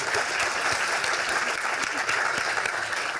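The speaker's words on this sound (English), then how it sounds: "It says hold for applause, so please applause" Audience applause for sponsors at a healthcare innovation event, dense continuous clapping at full volume with some distinct individual claps and a faint murmur beneath.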